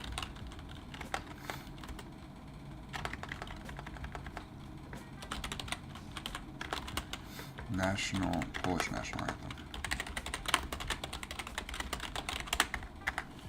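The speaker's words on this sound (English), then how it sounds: "How was that typing? Was it fast?" Rapid clattering keystrokes on a computer keyboard run continuously at close range, dense and fast, with a voice speaking briefly over the typing partway through.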